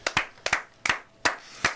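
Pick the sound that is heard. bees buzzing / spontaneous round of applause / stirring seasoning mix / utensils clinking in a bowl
spontaneous round of applause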